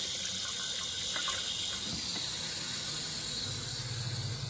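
A steady, loud rush of running water pours continuously into a van's water tank, hissing throughout with no pauses or voices.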